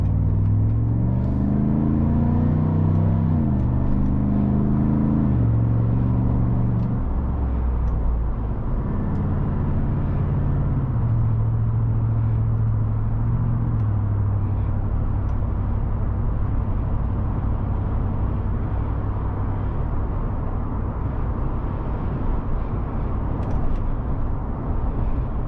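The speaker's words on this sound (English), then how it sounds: "this truck has a very, very nice exhaust note with that bullet" A 2019 Chevrolet Silverado pickup with a bullet-style exhaust, heard as a deep, rumbling engine note that rises and falls in pitch early on, then settles into a steady low drone.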